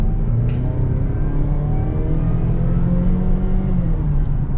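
A 2024 Ford Explorer XLT with the 2.3-litre engine accelerates on the road, its steady low engine drone rising slightly in pitch and holding loud and close throughout over road rumble, with no talking.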